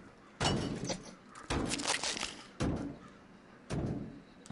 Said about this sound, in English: So it sounds like they're trying to bang on the door.